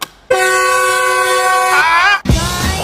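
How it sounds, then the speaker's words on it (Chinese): A train-style whistle horn fitted to an Ora Good Cat car blasts loud and close in one long, steady multi-tone note that bends briefly before stopping, followed by a short burst of talk. "火车汽笛是不是很有创意？"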